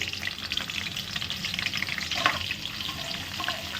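Cumin, mustard seeds and asafoetida fry in hot oil for a spicy fenugreek-leaf dish, giving a steady close sizzle with a few popping crackles throughout and no voices.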